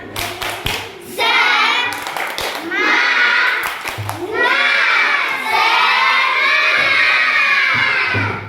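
Schoolchildren in a classroom perform a spirit clap chant, a loud group of young voices shouting in rhythm with bursts of tight, patterned clapping, close and energetic.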